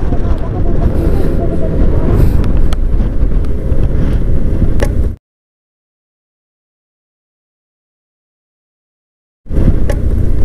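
Strong wind buffets the microphone in San Nicolas, Pangasinan, a loud continuous rumble with gusting roar that fills the first five seconds, then drops to silence before returning near the end; voices talk under the noise.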